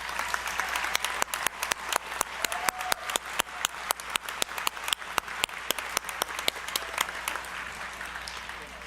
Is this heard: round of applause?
yes